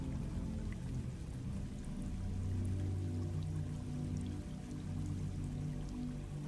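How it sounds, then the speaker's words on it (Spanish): A distant waterfall pours in an outdoor setting, a continuous, even rush of falling water with a soft low roar and no pauses or voices. "Observa cómo a lo lejos puedes escuchar una cascada y sentir un poco la brisa del agua."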